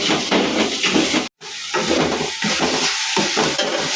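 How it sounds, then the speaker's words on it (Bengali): Garlic and ginger paste with salt frying in a hot pan while momo filling is cooked, giving a loud, close hiss and sizzle broken by stirring scrapes and one brief dropout, with no talking. "এবার এগুলো দিয়ে আমি কিছুক্ষণ ভেজে নেব"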